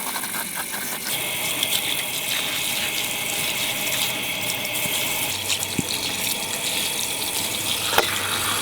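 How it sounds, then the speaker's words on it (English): Steady rush of high-pressure tap water rinsing freshly cleaned dove breasts, a continuous broadband spray with faint clinks and knocks near the end, no talking. "So I'm just rinsing off all of these breasts"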